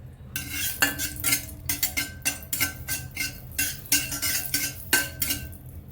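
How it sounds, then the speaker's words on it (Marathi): Grated carrot roasting in ghee in a pan for carrot halwa, with repeated metallic scraping and clinks of a spoon stirring against the pan, close and steady, no voices. "आपलं गाजर खिसून घेतलेलं आहे ते पर तुपावरती आपल्याला भाजून घ्यायचं आहे"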